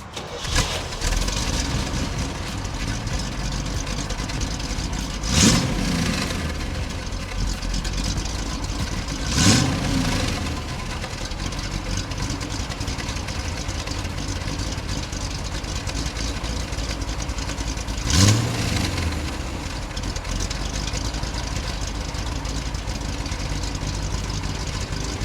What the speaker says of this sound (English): Why don't we just start it up, take it for a spin?